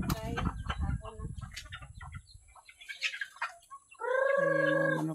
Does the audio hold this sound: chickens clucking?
yes